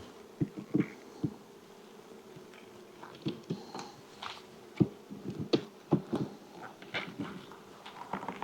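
Honey bees hum faintly in the background at a hive being inspected while brief knocks and clicks pop up irregularly, close by.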